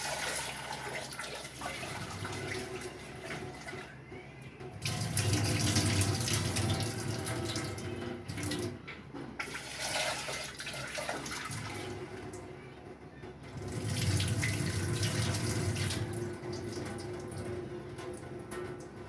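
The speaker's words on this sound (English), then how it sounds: "So this dal needs to be rinsed twice, so I'm just giving it a rinse." Dal (lentils) being rinsed under a running kitchen tap, a steady rush of water swelling louder in bursts as the grains are swished in a vessel, with no talking.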